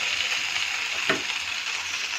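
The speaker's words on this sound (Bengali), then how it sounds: "ভাজা আলুটা এর মধ্যে ছেড়ে দেবো।" Potatoes that were fried earlier go into a pan of cooking okra, giving a steady close sizzle of frying with a brief louder burst as they land, and no talking.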